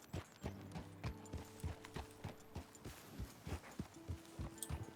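Rhythmic clip-clop of horse hooves at a walk in Red Dead Redemption 2, steady and fairly close, with a soft tonal hum in the background.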